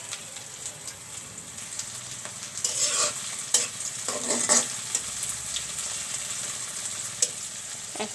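Onion and chili frying in hot oil for a cauliflower curry, a steady close sizzle with a louder crackling surge as stirring picks up midway, occasional utensil taps, no talking.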